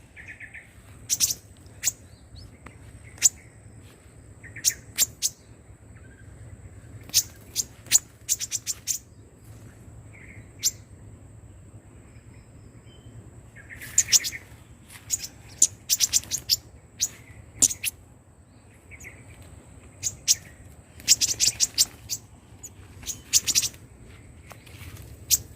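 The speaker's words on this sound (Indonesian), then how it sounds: "seperti teman-teman lihat di belakang, banyak burung" Many small birds chirp and tweet in a village setting, bursts of bright calls coming in scattered clusters over a quiet, steady background hum.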